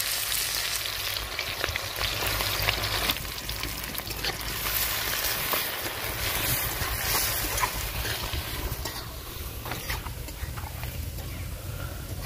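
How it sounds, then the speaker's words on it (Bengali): Sliced onions frying in hot oil in a pan, a dense, continuous crackling sizzle heard close and steady throughout. "আমরা পেঁয়াজগুলো এমনি দিয়ে দেবো তেলের মধ্যে। তেলের মধ্যে পেঁয়াজগুলো ভেজে নেবো।"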